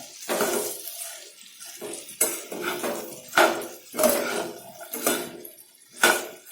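Okra vegetable mixture being stirred in a pan with a metal spoon: repeated scraping clinks against the pan at a steady rhythm, about once a second, close and clear with no talk.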